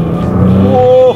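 A Nissan GT-R R35 engine revving hard under full throttle after a downshift, a loud close roar climbing steadily in pitch over about a second.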